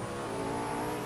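Race car engine revving in a Roblox Car Dealership Tycoon race, a brief steady loud buzzing drone with dense harmonics, heard alone.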